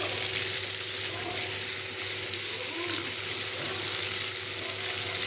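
A bay leaf and a dried red chilli frying in oil left from frying prawns, giving a loud, continuous close sizzle and crackle with no break.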